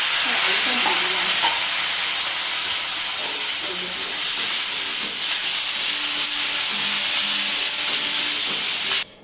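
Small diced potatoes fry in hot oil with dried chilli and kalonji, a loud, steady sizzle and hiss with faint stirring clinks, cutting off abruptly at the end.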